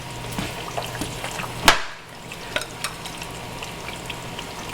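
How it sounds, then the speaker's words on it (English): Oxtail and butter beans being stirred in a pot for Jamaican oxtails, a soft scraping stir under a steady low sizzle with one louder clatter partway through, close and fairly quiet. "Let's stir that in."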